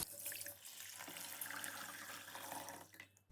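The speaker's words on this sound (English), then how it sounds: "Then I'm going to add enough water to cover it." Water pours steadily over plant material weighed down with a tile in a dyeing pot, a soft continuous splashing flow that stops abruptly after about three seconds.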